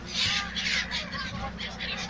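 Crows caw in scattered bursts over the sea near the Gateway of India in Mumbai, heard from a boat amid steady wind and engine noise, with some voices in the background.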